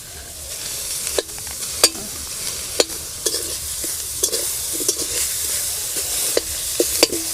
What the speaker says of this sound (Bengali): এক বাটি নারকেল করে নিয়েছি এবার এটা কড়াইয়ের মধ্যে দিয়ে দেবো